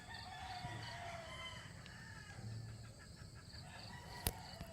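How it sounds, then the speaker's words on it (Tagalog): Roosters crow faintly in the distance at a mountain campsite on Mt. Parawagan, drawn-out calls over a steady outdoor background with no talking. "sa mga tilaok ng manok"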